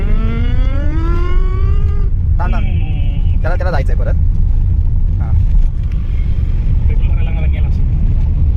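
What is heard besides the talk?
Royal Enfield Bullet motorcycle engine running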